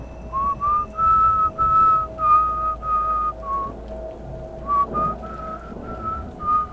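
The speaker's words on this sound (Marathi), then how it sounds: "त्या वादळात मला एका शिट्टीचा आवाज ऐकू आला" Eerie rhythmic whistling in a repeated pattern of sustained, slightly rising tones, each note separated by short gaps, fairly loud and close, with no other voices.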